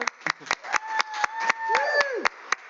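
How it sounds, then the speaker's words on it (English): Scattered clapping from a luncheon audience, sharp individual claps spaced irregularly, mixed with a voice and sliding tonal sounds over the top. "Let's give him another round of applause."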